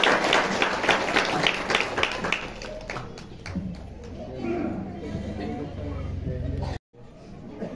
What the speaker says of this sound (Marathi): त्यांच्यासाठी सुद्धा एकदा जोरदार टाळ्या उद्या